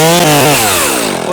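A chainsaw cuts horizontally into a tree trunk during felling, a loud close engine whine that drops slightly in pitch as the chain bites into the wood.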